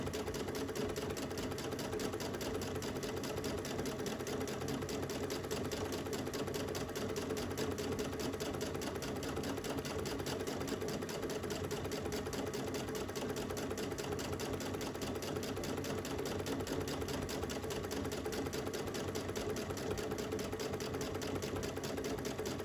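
A Brother Luminaire sewing machine free-motion quilting runs in a fast, steady mechanical patter for the whole stretch, faint and even, with no voices.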